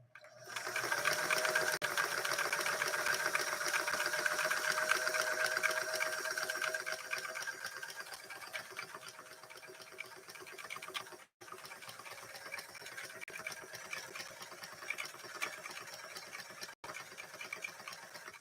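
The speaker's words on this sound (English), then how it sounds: "we just sewed through 2 layers of canvas" A Singer 328K sewing machine stitching through two layers of canvas, running with a fast steady mechanical whir and rapid needle clatter, loudest in the first few seconds, then continuing a bit softer with two brief stops.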